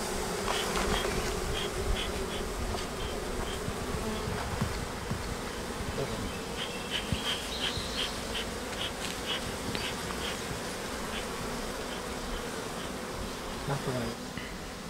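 Honey bees drone steadily around their hives in an Azerbaijani apiary, a dense continuous buzz that holds close and level for the whole stretch, with individual insects passing nearer now and then and no talk.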